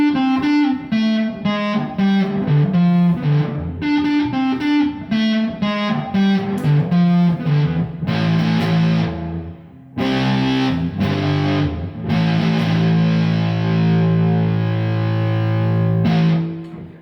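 An electric guitar through a fuzz pedal plays a choppy, thick distorted riff, then sustained notes that hang on and ring out for a long time. It is loud and heard alone, with no voices.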